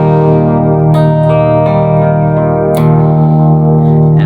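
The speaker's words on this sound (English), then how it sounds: "how the dry guitar signal is going into the reverb" Dry electric guitar played straight into a reverb pedal, sustained chiming chords ringing clearly and loudly with a couple of fresh strums, no talking.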